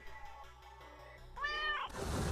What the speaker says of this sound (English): Oh, the witch's cat.